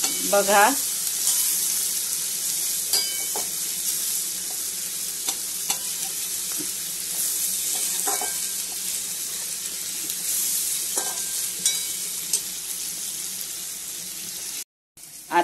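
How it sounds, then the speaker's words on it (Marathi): Carrots, peas, cabbage and capsicum are stir-fried in a pan while noodles are being made, giving a continuous loud sizzle with scraping stirs and occasional clinks, and a brief spoken word. "आता याच्यामध्ये मी गाजर, वाटाणे आणि पत्तागोबी आणि सिमला मिरची टाकलेली आहे."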